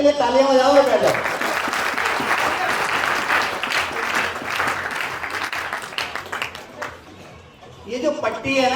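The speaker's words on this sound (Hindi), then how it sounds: "सर के लिए तालियां बजाओ और बैठ जाओ" Loud, sustained applause from a networking training audience for a participant, steady clapping for about seven seconds that thins out, with someone talking at the beginning and again at the end.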